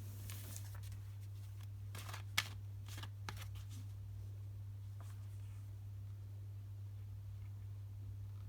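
Tarot cards shuffled by hand in a series of quick riffles and soft slaps, close and quiet over a steady low electrical hum, fading to near stillness in the second half.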